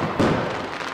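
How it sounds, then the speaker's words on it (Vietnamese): Cartoon fireworks burst for a village festival: a loud, booming blast near the start that decays into a crackling, rumbling tail over the rest of the second. "Pháo hoa kìa!"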